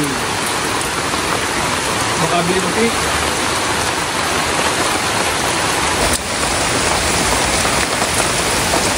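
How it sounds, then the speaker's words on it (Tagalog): Heavy, steady rain pours down as a dense broadband hiss throughout, with a voice speaking briefly beneath the downpour. "Kami po muna ay sumilong at napakalakas naman po ng ulan."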